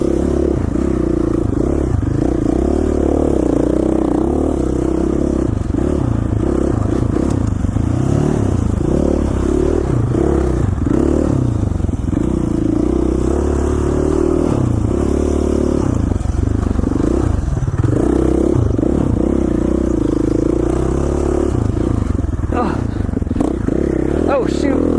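A KTM 450 motorcycle ridden continuously, its engine droning loudly up close with shifting revs and rattling clatter, and a voice speaking over it at times.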